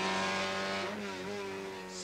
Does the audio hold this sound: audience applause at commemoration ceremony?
no